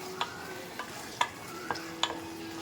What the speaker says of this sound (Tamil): நம்ம பக்கத்துலேயே நின்று இப்படியே கிண்டி கொடுத்துக்கிட்டே தான் இருக்கணும்